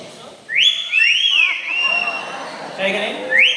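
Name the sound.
parrot imitating a whistle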